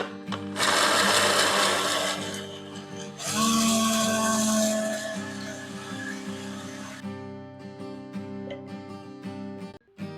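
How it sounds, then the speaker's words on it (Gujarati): An Atomberg mixer grinder whirs loudly as it crushes sesame seeds, grated coconut and poppy seeds for goda masala, running in two strong bursts with a brief pause between, then winding down into a fading hum. "હવે તલ, ટોપરાનું છીણ ને ખસખસ એડ કરીએ. તેને પણ એકવાર ક્રશ કરી દઈએ."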